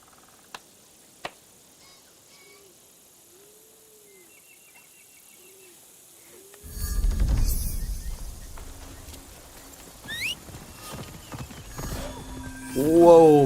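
A horse's hooves clop in Assassin's Creed Shadows. The hooves come in after a quiet stretch with a couple of sharp clicks, mixed with birdsong and general village bustle at moderate loudness.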